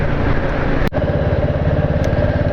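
A motorcycle is ridden along a city road near a flyover, its engine a steady close drone with a brief dip and click early on before the hum resumes unchanged.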